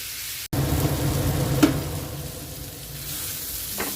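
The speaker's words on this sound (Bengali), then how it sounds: "সসেজটাকে অল্প একটু ভাজা ভাজা করে নেবো একটু ব্রাউন কালার হওয়া পর্যন্ত" Steady close sizzling of sausage frying in a pan, with a sharp knock near the start and a brief scrape of stirring.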